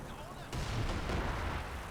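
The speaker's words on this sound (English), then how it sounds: "I think it is barraging right around here" A heavy artillery barrage in the Company of Heroes 2 video game, with a sharp boom followed by continuous loud rumbling blasts, and commentary talk faintly underneath.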